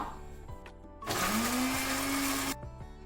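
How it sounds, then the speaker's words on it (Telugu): An electric mixer grinder whirs loudly for about a second and a half, grinding fresh mint leaves, cumin seeds and salt into a smooth paste, its motor pitch rising steadily before it cuts off abruptly. "ఇప్పుడు మిక్సీ పట్టుకుందాము"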